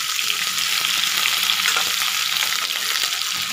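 Oil sizzles in a hot kadhai, a loud, bright, continuous frying hiss with faint stirring scrapes, steady for a few seconds and free of talk.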